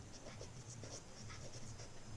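Pen writing on paper during a class 6 maths lesson, faint scratchy strokes in short bursts over a low steady room hum, quiet and close.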